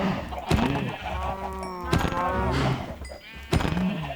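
A video-game sheep bleats in a few drawn-out, quavering calls, close and moderately loud, punctuated by sharp knocking thuds like a door banging, with no talk.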